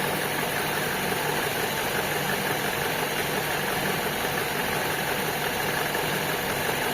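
A Toyota engine idling with the air-conditioning compressor's magnetic clutch engaged gives a steady, dense mechanical whir and hum with faint knocking vibration, continuous and close, with no talk.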